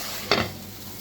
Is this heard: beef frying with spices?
yes